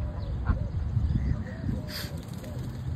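Geese and ducks in a park give a few short honks and quacks at middle distance, scattered among outdoor ambience and a person talking.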